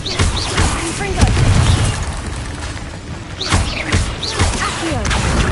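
Confringo explosive spells go off in the Hogwarts Legacy video game, several booming blasts with whooshes and crashes spread across the stretch, mixed with a voice talking over the action.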